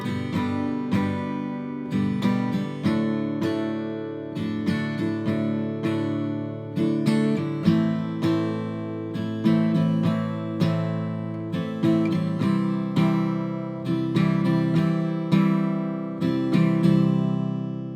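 Beginner acoustic guitar strumming pattern in 4/4, played twice over each of four chords, with steady accented downstrokes and ringing chords close to the mic.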